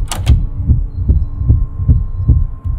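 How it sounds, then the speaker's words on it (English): A heartbeat sound effect in the ghost-hunting video game Unhaunter, with loud, deep, evenly spaced thumps about every 0.4 seconds over a low hum, following a brief sharp noise at the start. "you see that the heartbeat and the effects, it just add a lot"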